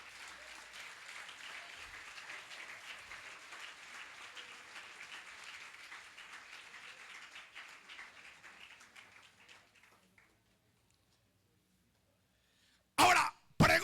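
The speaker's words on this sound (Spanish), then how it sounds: "Dale una ofrenda de palmas fuerte al Señor." A church congregation at an anniversary closing service gives a loud round of clapping that fades out after about nine seconds into near silence, followed by two sharp, close bursts of noise at the end.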